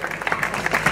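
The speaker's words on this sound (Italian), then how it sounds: "Un grande applauso per il produttore e gli attori, grazie." An audience at the 2016 Raf Vallone award ceremony applauds the producer and actors of a short film. A brief burst of close, steady clapping is heard.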